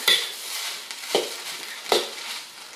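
Fried rice being stirred in a pan, with a few distinct scraping strokes of a utensil against the pan spaced about a second apart over a soft background sizzle.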